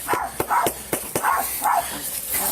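A dog barks repeatedly from inside a parked car, several sharp barks in an uneven rhythm, fairly close and clear against a steady background hum.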